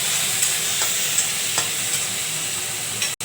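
Salt and dried chillies sizzle and fry steadily in a hot pan while being stirred, with soft scraping strokes at intervals and a brief dropout right at the end.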